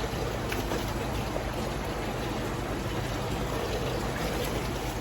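Steady running water from a tap or hose during a bath for a small one-year-old bully dog, a continuous broadband rush that stays even and fairly loud throughout with no speech.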